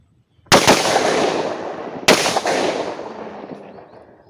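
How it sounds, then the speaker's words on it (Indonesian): Four large XL-size firecrackers burst almost together, giving a sharp loud bang followed by a second explosive crack about a second and a half later, each leaving a long decaying rumble and crackle behind it. "Kita langsung nyalakan 4 sekaligus."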